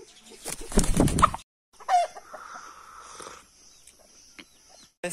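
Chickens clucking and squawking in a bird market, a loud burst of flapping and calls followed by quieter scattered clucks.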